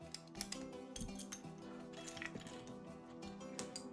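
Plastic keyboard keycaps clatter into a box in quick, irregular bursts of light clicks and clinks, close and fairly faint, with no talking.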